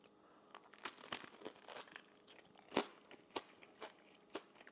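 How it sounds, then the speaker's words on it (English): Close, quiet bites into crispy fried banana turon with a caramel coating, several sharp crunches and crackling chews spread unevenly over a few seconds, no talking. "You can hear the crispiness of this."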